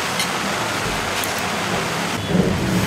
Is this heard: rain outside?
yes